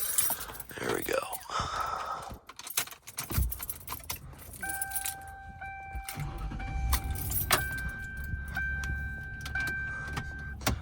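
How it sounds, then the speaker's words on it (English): Keys jangling on a huge key ring inside a car, loud metallic clinks and rattles close by at the start, followed by quieter cabin sounds and electronic chimes. "I can find the keys on my huge ring here."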